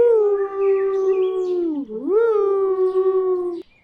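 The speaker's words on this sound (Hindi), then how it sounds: "लोमड़ियों के झुंड ने नए राजा का अभिवादन करने के लिए अपनी आवाज़ में जोर से चिल्लाएं।" In an animated story, foxes howl loudly. A single sustained, tonal howl is heard close up, dipping sharply in pitch midway before rising again and holding steady until it cuts off.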